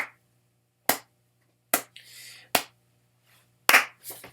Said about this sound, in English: I wanted to get far enough away and like not clap so loud that it clips.